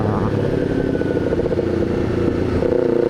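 A Kawasaki Ninja 250R fitted with an SC Project aftermarket exhaust, ridden through a cemetery area in the afternoon, its engine droning loudly and steadily at speed with a constant close rumble.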